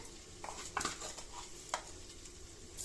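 Cumin and curry leaves crackle softly in hot oil in a pressure cooker, with a quiet, close sizzle broken by a few sharp clinks of stirring.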